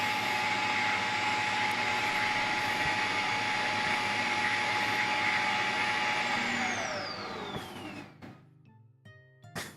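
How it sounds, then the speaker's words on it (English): A loud, steady vacuum cleaner drones on in the video game Elin, its whine sliding downward near the end as the motor winds down and the noise drops off into near silence. "the vacuum just decided to go home now, and now it's just doing its own thing. Look how loud that is."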